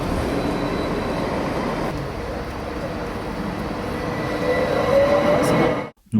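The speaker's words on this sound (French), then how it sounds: "Nous prenons un tram-train pour Germersheim." A tram-train to Germersheim rumbles along the rails with a steady roar and a brief wheel squeal, then the noise cuts off abruptly.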